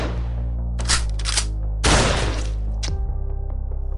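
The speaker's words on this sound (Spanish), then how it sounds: "Sin previo aviso, irrumpieron en la habitación y abrieron fuego." Shotgun blasts ring out in a violent bursting burst, with sharp loud cracks and echoing decay, then a final shot.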